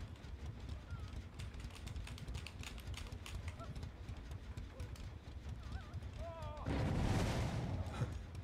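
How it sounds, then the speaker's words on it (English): Firecracker set off in the horror game Dead by Daylight: a crackling burst of about a second and a half of popping noise rises over a busy game background, with a voice talking throughout. "A little firecracker."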